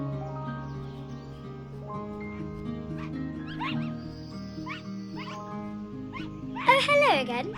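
A dog barks a few times in the Nintendo Switch game Into A Dream, short yips over a steady musical soundtrack, with a spoken voice in the scene.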